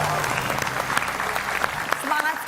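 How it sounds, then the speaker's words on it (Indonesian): A studio audience at a comedy show applauds in a steady burst of clapping, moderately loud, with voices talking over it. "Kenapa saya mengajak Anda tepuk tangan lebih semangat dan lebih meriah?"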